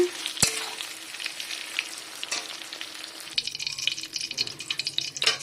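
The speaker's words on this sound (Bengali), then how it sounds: "দেখুন এখানে পটল ভাজা হয়ে গেছে তো পটল ভাজাগুলো আমি তেল থেকে তুলে নিচ্ছি" Pointed gourd slices frying in plenty of oil, a close crackling sizzle with a sharp clack near the start and busier stirring and clinking noises toward the end.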